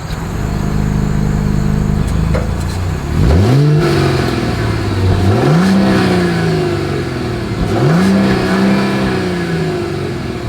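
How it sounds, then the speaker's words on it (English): A 2025 Mercedes-Benz GLS 450 SUV's exhaust at idle, then three loud revs, each rising sharply and falling back, heard close with no talking. "As always, here is that exhaust clip."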